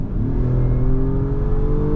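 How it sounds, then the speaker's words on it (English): A 2022 Acura MDX Type S engine revs loudly and steadily during a downshift, a close, continuous mid-pitched drone that climbs slightly in pitch. "I'm gonna go ahead and downshift here"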